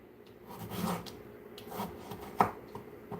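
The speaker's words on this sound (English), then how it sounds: "chopping up veggies" Vegetables being chopped on a cutting board at home, a few uneven knife strikes and scraping rubs, close and fairly soft, with no talking.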